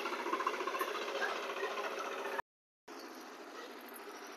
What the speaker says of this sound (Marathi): हे बघा आपल्या खालच्या शेतात पण ट्रॅक्टर लावला